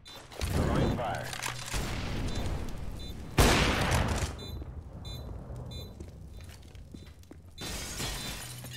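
A molotov fire grenade thrown in CS:GO shatters loudly, followed by a roaring burst of flames that keeps crackling under ongoing game noise and a talking voice.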